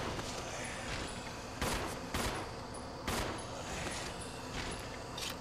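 Rapid bursts of gunfire from the video game Resident Evil Zero: several sharp shots in quick succession over a constant dense game soundtrack.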